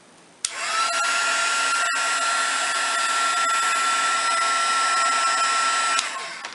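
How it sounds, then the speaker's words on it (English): A craft heat tool blows steadily to melt green metallic embossing powder on a brad, a loud, close, even whirring hum that starts abruptly and runs about five seconds before cutting off. "we're going to go ahead and zap this with a heat tool real quick"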